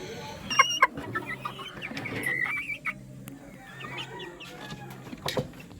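White Leghorn chickens on a farm clucking and squawking up close, a busy overlapping chorus of short calls with a few sharper cries over low background noise.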